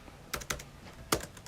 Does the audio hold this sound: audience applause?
no